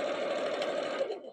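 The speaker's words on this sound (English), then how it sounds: "we're just gonna sew up this hole here" A sewing machine stitches a Christmas stocking closed, running in a steady fast whir at close range before it slows and stops near the end.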